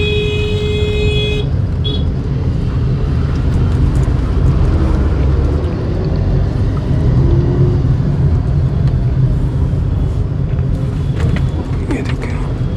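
Road traffic on a city street heard from inside a car, with a steady broadband engine and road rumble, cars passing close by and a brief horn toot near the start.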